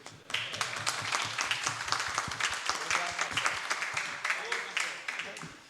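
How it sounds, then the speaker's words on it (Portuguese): Audience applause fills a Rotary Club talk in Recife, a steady wash of many hands clapping close by for several seconds, with some talk mixed in underneath. "queria pedir uma salvação de palmas, não só pelo palestrante, porque hoje também é o dia do jornalista."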